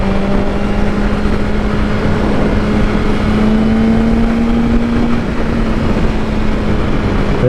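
A 2024 BMW S1000RR motorcycle engine runs steadily close by, its droning tone shifting slightly in pitch as the revs are varied, with no talking.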